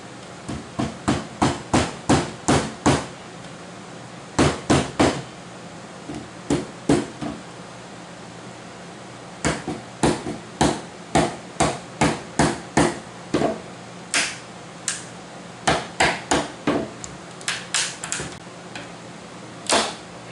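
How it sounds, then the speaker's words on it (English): Someone prying the trim off the top of a 25-cent coin-operated palm reader machine, producing bursts of sharp, loud cracks and snaps in rapid clusters separated by short pauses, close up and with no talking. "I guess I'll pull the trim off around the top and see what I can see"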